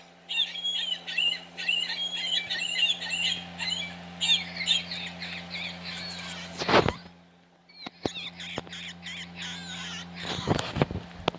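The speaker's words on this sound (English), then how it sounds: "California gull." A California gull call from an Audubon plush bird toy: a run of shrill, squawky chirping calls repeated in quick succession, briefly broken by a sharp handling noise, then more calls resuming close to the mic.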